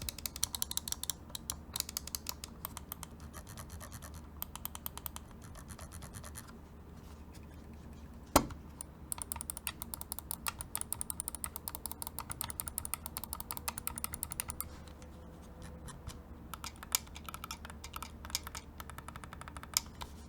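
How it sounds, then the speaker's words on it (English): Rapid, faint clicking from a Razer wireless gaming mouse, with dense irregular bursts of button clicks and scroll-wheel ratcheting over about twenty seconds and no talk. "let's drop a sound test right about now"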